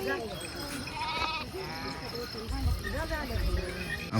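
A flock of horned sheep with goats bleating repeatedly at a farm, several overlapping calls near and far against a steady insect hum, with people talking nearby.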